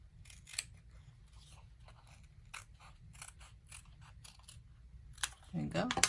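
Scissors trimming the ends of paper for a Christmas mini album, a run of crisp snipping cuts close by in a quiet room, and a voice comes in briefly at the end.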